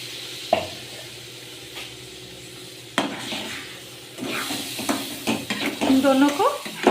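Semolina, sugar and coconut milk stirred together in a pan for a quick milk peda sweet: scraping spoon strokes and pan knocks over a soft sizzle that grows louder and busier toward the end.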